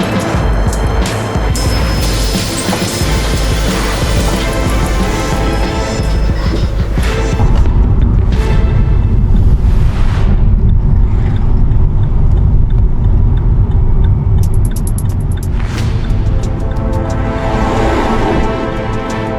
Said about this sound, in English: A simple curve proves too much to handle, and the vehicle flips over in a blink.